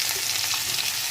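Chopped carrot, potato and green chilli fry in hot oil, giving a steady, loud, close sizzle that does not change for the whole second.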